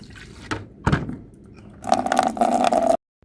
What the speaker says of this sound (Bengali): জলটা ভরতে দিয়ে